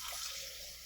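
Water is poured into the reservoir of a Keurig coffee maker, a steady close splashing rush that fades slightly over a brief moment, with no voices.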